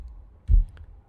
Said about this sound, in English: There are low thuds,